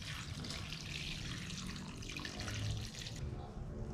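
Steady rush of running water with baking soda splashing into a cooking pot, continuous and close, with no talking.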